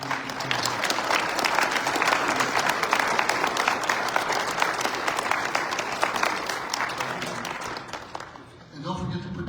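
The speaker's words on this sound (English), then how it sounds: "let's please give a round of applause" Sustained applause from a large convention audience at an annual veterans' organization session, dense and steady for most of the stretch before tapering off near the end as a voice begins.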